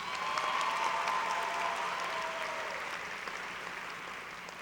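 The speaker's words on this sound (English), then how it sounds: "Let's give her another round of applause." Another round of applause rises from the audience at a high school graduation ceremony, a sustained, even wash of many clapping hands heard from a distance, fading slightly toward the end.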